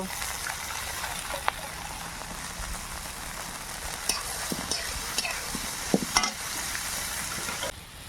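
Chopped beans and grated potato are stir-fried in a pan for milk paneer rice, with a constant soft sizzle and scattered clicks and taps of a spatula stirring.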